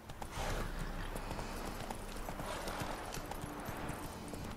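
Horse hooves clip-clop steadily in The Witcher 3, a continuous run of quick, regular hoofbeats over ambient game sound with a soft ground texture throughout.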